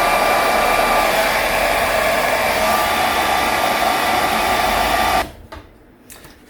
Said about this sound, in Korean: 최종적으로 드라이기로 말려서 확인을 해 보도록 하겠습니다.